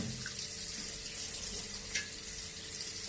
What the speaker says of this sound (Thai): หลังจากล้างออกเรียบร้อยแล้วเนี่ยโอ้ตายละ หน้าเนี่ยพองเลย เนี่ยล้างออกด้วยน้ำ